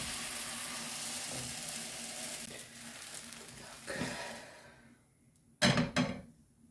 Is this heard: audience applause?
no